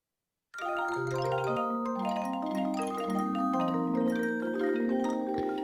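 Overlapping electronic tones from bouncing circles, squares and triangles hitting lines in an app ring out in a steady stream, one clear note after another with no pauses, sustained and layered.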